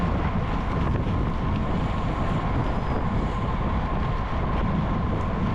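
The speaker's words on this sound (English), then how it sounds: "this is like a windy section of the course" Steady, loud wind rush on a bike race course buffeting the microphone, a constant broadband roar with no pauses and no voices.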